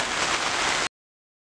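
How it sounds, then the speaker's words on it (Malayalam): Heavy rain in hilly, misty Vagamon pours in a dense, steady hiss close by, then cuts off abruptly into silence. "അപ്പം നല്ല മഴയാണ്"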